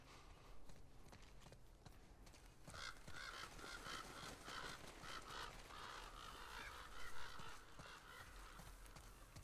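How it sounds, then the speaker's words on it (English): Crows caw in The Last of Us: a series of harsh, repeated calls from a few seconds in, over rhythmic hoof-like clopping and outdoor ambience, all fairly faint. "Darn crows."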